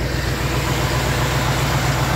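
A 1969 Ford F100 pickup engine idles very low at about 500 RPM, a steady, close, rumbling drone with an even low pulse and no voices.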